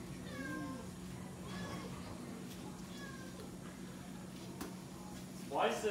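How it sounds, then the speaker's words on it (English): A cat meows repeatedly at a closed door, trying to get out, with a few drawn-out cries spaced through the room while a person talks nearby. "Why is the cat so obsessed with getting out now?"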